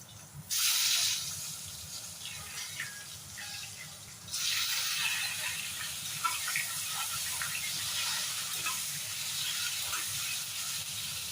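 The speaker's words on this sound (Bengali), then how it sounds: "তেলের মধ্যেই এবার আমি বেগুনগুলোকে ভেজে তুলে নেব।" Eggplant pieces sizzle in hot oil on a stove set to low heat while cooking Bengali hilsa fish latpati, giving a steady, loud hiss that jumps louder partway through and keeps crackling.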